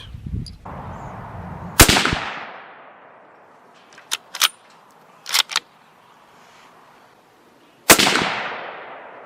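Three sharp, loud .25-06 rifle shots fired with Federal Power Shok ammunition outdoors, spaced several seconds apart, each followed by a short echo, with quieter clicks between.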